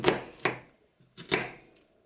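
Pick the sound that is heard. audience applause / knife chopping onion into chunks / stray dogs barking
knife chopping onion into chunks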